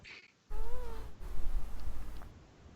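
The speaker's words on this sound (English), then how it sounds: "Is someone meowing?" A cat meowing, one drawn-out wavering meow up close followed by a softer second cry, over a low background rumble.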